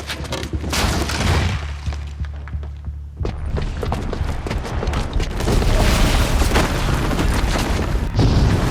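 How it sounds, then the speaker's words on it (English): A booby-trapped bomb goes off in Horizon Zero Dawn, a loud sustained roar of booming blasts and rumbling debris with a deep low hum underneath, swelling and staying dense across the whole stretch. "the booby trap on the bomb downstairs is gonna get set off"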